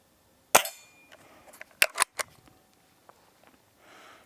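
A Hatsan Model 25 Supercharger .177 air pistol fires at a 10-meter target, one sharp crack followed by a few quieter clicks of cocking and loading, then two more snappy shots close together, near and crisp in a quiet room.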